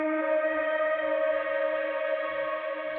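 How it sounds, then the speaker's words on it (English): A steady, breathy synthesized flute tone holds a bright sustained chord with soft echo, playing alone at moderate volume without pause. "I added on, just grabbed some splice loops, this synth flute loop"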